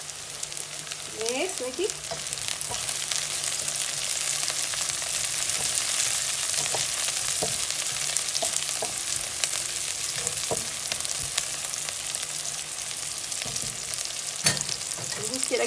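Chili frying in a pan for chicken Nasi Mandy gives a steady, close sizzle that runs the whole time, with occasional clacks of stirring and a brief word spoken over it.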